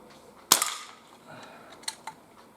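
A Crosman 2300T CO2 pistol fires a single sharp shot outdoors at a 12.5 meter target, a crisp crack followed by a brief decay, then a couple of faint ticks a moment later.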